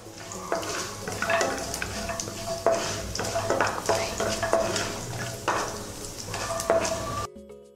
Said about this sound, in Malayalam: കടലപ്പരിപ്പ്, അണ്ടിപ്പരിപ്പ്, ഇതെല്ലാം കൂടെ ചേർന്നിട്ട് നന്നായിട്ടൊന്ന് മിക്സ് ചെയ്ത് കൊടുത്തിട്ട് ഒരു ഗോൾഡൻ നിറം ആവുന്ന വരെ നന്നായിട്ട് മിക്സ് ചെയ്ത് കൊടുക്കാം